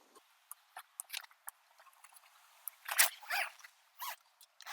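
A zipper on the side of a screen enclosure in a 2021 Ram Promaster campervan, heard as a series of short, close rasping pulls and clicks, scattered at first and then longer runs near the end.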